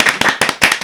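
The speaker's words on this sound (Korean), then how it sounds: "박수!" Audience applause with a few sharp broadband bursts welcoming a retired orthodontist guest on stage at a dental association's 30th-anniversary event, loud and close, under a second.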